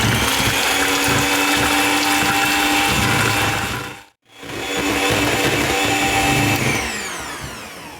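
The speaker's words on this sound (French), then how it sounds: "Et je vais fouetter ma préparation." An electric whisk whirs loudly and continuously through cheesecake batter in a bowl, cutting out for a moment midway and then starting again with the same steady buzz.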